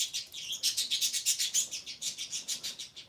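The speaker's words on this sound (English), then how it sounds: "My birds are at it bright and early." Pet birds chirping indoors in the morning, a rapid run of bright, high tweets repeating steadily and close by for the whole stretch, with no talking.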